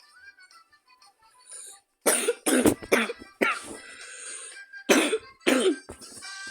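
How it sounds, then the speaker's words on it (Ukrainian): A person coughs repeatedly up close, a burst of harsh coughs in quick succession after a quiet start with faint background sound. "бачите, я трохи кашлю"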